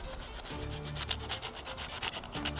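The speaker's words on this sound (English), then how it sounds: "I am just going to go around and sand this down" Wood edges being sanded by hand with 100 grit sandpaper, repeated soft rasping strokes in an uneven back-and-forth rhythm, close and fairly quiet with no voices.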